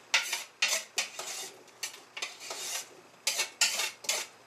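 Russet potatoes in a soup pot are stirred with a utensil, producing a quick series of scraping, clattering strokes against the metal, fairly close, with a brief gentle sizzle and quiet gaps between strokes.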